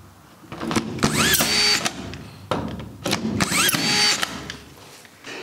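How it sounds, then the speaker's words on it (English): A power screwdriver whirs in two repeated bursts, each driving a screw with a rising mechanical whine and clacking between them. "I went to a store and got myself an automated screwdriver."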